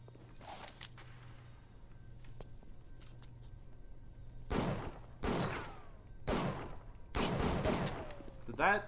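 Gunfire in the video game BioShock, several sharp bursts of shots in the second half, each loud and close with ringing tails, following a quieter stretch of low background hum and faint clicks.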